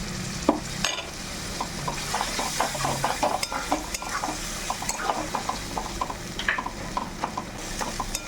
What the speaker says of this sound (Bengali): মশলাটা আমার কষা হবে।